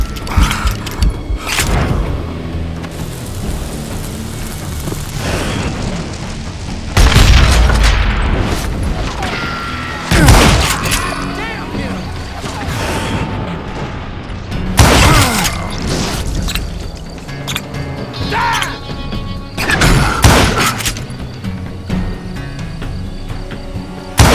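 Gunshots ring out in a Western audio-drama shootout, a series of sharp, loud booming cracks spaced a few seconds apart over a busy mechanical background with scattered clatter and crashes.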